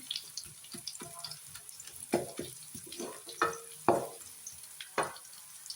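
Onions browning in a hot pan for a minced-meat and potato dish, with a steady low sizzle and a spoon stirring and clinking against the pan at irregular moments, close and moderately quiet.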